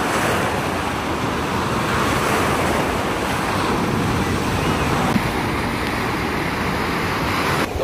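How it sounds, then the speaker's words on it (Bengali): Sea waves break on the beach at Puri in a steady, loud wash of surf with wind noise across the microphone and no pauses. "আর এখানকার ঢেউ সত্যি অনেকটাই বেশি"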